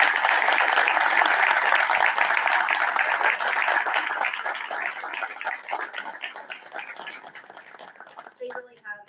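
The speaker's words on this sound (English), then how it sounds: "so we can give them a round of applause" Audience at a school board meeting applauds students, a dense burst of clapping that starts loud and gradually thins and fades, with a few scattered claps and a voice near the end.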